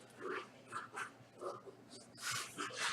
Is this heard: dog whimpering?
yes